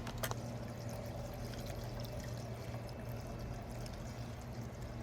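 Gas and two-cycle oil pour through a funnel into a leaf blower's fuel tank: a steady, close liquid flow that runs unbroken for about five seconds.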